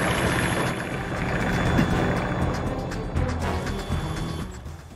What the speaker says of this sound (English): You've got a helicopter.